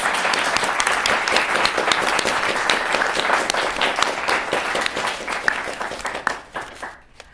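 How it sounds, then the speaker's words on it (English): An audience at a public policy debate semifinal gives the debaters a strong round of applause, dense clapping that holds steady, then thins out and fades near the end. "let's give these debaters a big round of applause."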